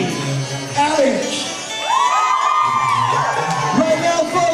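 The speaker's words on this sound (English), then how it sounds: "Put your hands together, scream and shout for the one, the only, Alex." A bar mitzvah crowd in a hotel ballroom whoops, yells and cheers loudly as an entertainer's amplified voice calls out over them, the shouting rising and falling in waves close by.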